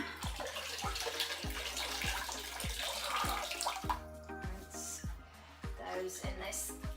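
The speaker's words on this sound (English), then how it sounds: "I'm going to put this in a watering can because it's good for the plants" Aquarium water drained from a Malawi tank pours into a watering can, a steady splashing stream that runs throughout beneath a loud, regular musical beat.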